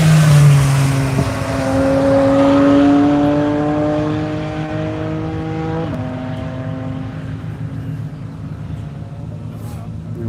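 A race car on a track circuit passes close by, its engine loud with rising and falling harmonic pitch, then fading steadily into the distance.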